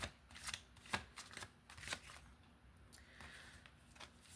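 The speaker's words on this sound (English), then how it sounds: "in shuffling the cards" Tarot cards are shuffled close up in a quiet room, giving soft, crisp riffling snaps and sliding swishes at an irregular rhythm.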